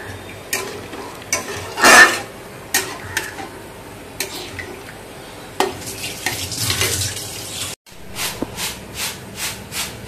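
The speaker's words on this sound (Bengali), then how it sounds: "এবার জল ঢেলে মাছগুলো দিয়ে দিলাম" Fish curry with mustard paste simmering after water and fish pieces go into the pan, with a steady bubbling sizzle and repeated sharp stirring clinks and scrapes, close and moderately loud.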